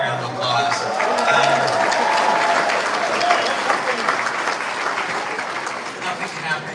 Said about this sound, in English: Please give them a great round of applause.